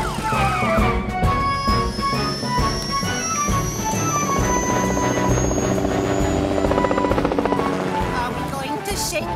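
A cartoon rescue helicopter in Fireman Sam flies with a steady, loud rotor drone and whine that lasts throughout, with music layered over it.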